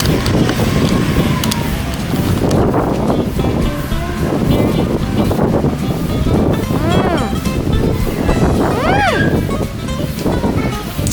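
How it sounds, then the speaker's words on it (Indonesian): Strong wind at the beach buffets the microphone in loud, continuous gusts, with surf-like rushing underneath and brief squeaky tones cutting through. "Kayak di pantai, mana anginnya juga lagi kenceng lagi"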